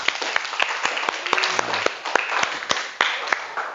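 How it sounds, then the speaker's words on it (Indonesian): Classroom students clap in a loose, uneven scatter of sharp hand claps, moderately close, with some faint murmuring between the claps. "Bagus, tepuk tangan."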